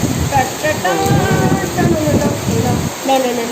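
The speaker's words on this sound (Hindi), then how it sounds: "बहुत ज़्यादा बारिश हो रही है, पूरी यहाँ तक आ गई है।" Heavy rain pours steadily onto a balcony, a dense, continuous hiss heard close, with a person speaking loudly over it throughout.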